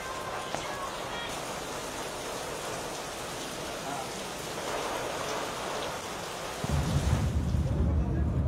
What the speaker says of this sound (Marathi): कोल्हापूर जिल्ह्यातील विविध भागांमध्ये कमी अधिक प्रमाणामध्ये पावसाच्या सरी कोसळत आहेत।